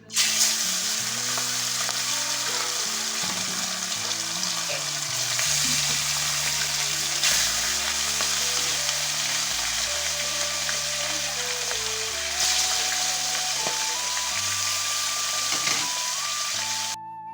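Turmeric-and-salt-coated fish frying in hot oil, a steady, loud, close sizzle that runs unbroken throughout with no talking.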